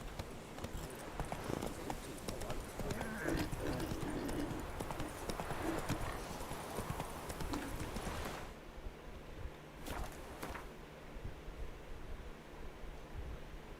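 Roach, a horse in The Witcher 3 video game, clip-clops along steadily for about eight seconds over a wash of ambient surf-like noise, then the hoofbeats drop away to quieter background with a few isolated bursts.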